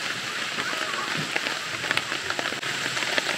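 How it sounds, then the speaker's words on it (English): Hard rain pattering steadily on a tent at a campsite, a dense, even hiss with scattered closer drops tapping. A voice speaks at times. "it's raining hard"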